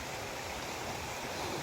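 A clear river stream flows in a forest, a steady, even rush of water heard close by with no talking.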